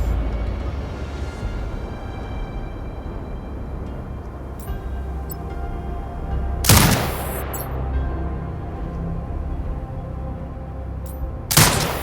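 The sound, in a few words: turret gunfire in Sniper Ghost Warrior Contracts 2 video game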